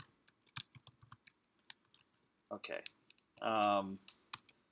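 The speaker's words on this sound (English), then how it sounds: "I'm in the middle of typing an equation." Rapid, uneven clicks of a computer keyboard as an equation is typed, close and crisp, with a voice speaking briefly and a short burst of another tone near the end.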